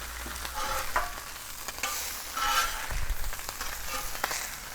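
An egg frying on a Blackstone flat-top griddle, with sausages nearby, gives a steady close sizzle and crackle. Occasional scrapes and taps of a metal spatula sound through it, and no one talks.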